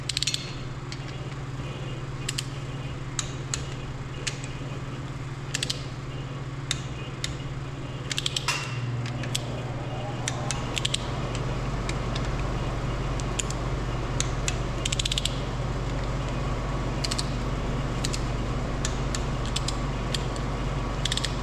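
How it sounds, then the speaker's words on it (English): Ratcheting clicks of a torque wrench tightening cylinder head bolts on a Detroit Diesel Silver 4-53T engine during a head rebuild, sharp repeated clicks spread through the clip over a steady low hum, with no talk. "And then we'll start torquing them down."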